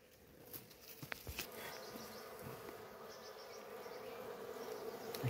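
Honey bees swarm around a honeycomb inside a rock cavity, a close, continuous buzzing hum with scattered brief clicks that grows louder toward the end, with no voices.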